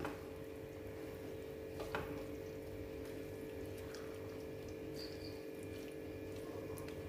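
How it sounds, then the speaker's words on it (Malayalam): Water is poured into a pressure cooker holding a green pea and potato masala curry mixture, a faint, steady trickle over a low background hum. "അതിനാവശ്യമായിട്ടുള്ള വെള്ളം ഞാൻ അതിനകത്ത് ഒഴിച്ചു കൊടുക്കും"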